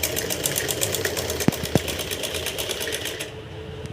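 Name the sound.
sewing machine stitching a lehenga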